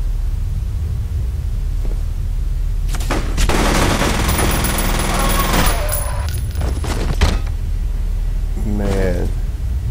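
Automatic gunfire in the first-person shooter F.E.A.R., bursts of shots from about three to six seconds over a steady game background noise, with a voice talking at times.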